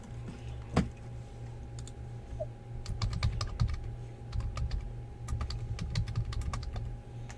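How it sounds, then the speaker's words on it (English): Computer keyboard typing in quick irregular bursts of clicks and key taps, close and fairly quiet, with a steady low hum underneath during a baseball card box break. "let me type that in"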